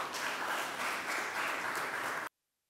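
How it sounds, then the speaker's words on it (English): Sustained audience applause at a seminar in Karimjee Hall, dense steady clapping from a full room that stops abruptly after about two seconds. "Please, let's give them a round of applause for all that they have done for us this morning."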